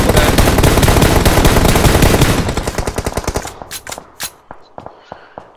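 Gunfire in a battle royale video game: a loud, sustained automatic burst, then a string of scattered single shots trailing off.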